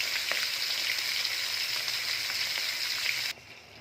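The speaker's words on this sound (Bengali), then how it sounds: "সিলভার কাপ মাছ ভাজতে দিয়েছি।" Silver carp pieces frying in a pan: a steady, close crackling sizzle with a few small pops, dropping abruptly to a quieter hiss near the end.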